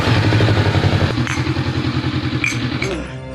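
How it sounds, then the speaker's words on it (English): A Honda CB500X motorcycle engine runs close by just after starting, a steady pulsing idle with rapid rhythmic thumps and some light mechanical clatter while warming up. "you need to start the bike and warm it up for 3 to 5 minutes"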